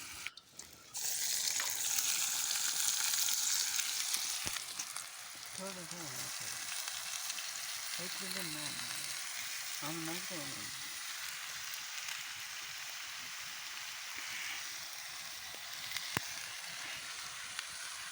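Undhiyu vegetables cook in two pots set side by side over a wood fire outdoors in Gir, a steady soft sizzling hiss running throughout with a faint voice-like murmur midway.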